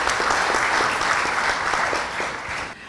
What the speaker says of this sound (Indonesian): Dan untuk itu mari kita tepuk tangan.